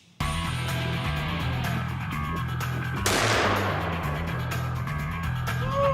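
A revolver fires a single sharp, loud shot partway through, which rings out over a steady background rumble and hum.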